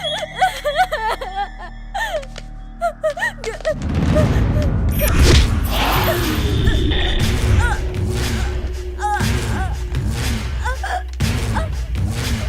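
A rapid burst of loud gunshots and thuds erupts after a few seconds of talk, continuing in a dense, chaotic volley with voices shouting over it.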